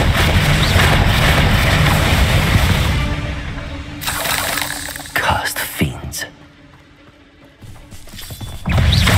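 Bombarda, the blasting spell in the video game Hogwarts Legacy: a loud, dense roar of noise gives way to several sharp, crashing bursts spaced a second or so apart, then fades before a final loud surge.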